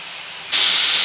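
Ginger garlic paste and chopped onions hitting hot oil in a pan, a sudden loud bright sizzling hiss that starts midway and holds steady, close up with no talking.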